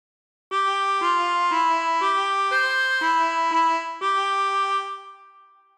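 A harmonica plays a short phrase of Yellow Rose of Texas, about eight clear blown notes in a steady rhythm, close and alone with no talking, the last note ringing and fading.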